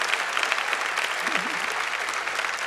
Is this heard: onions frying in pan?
no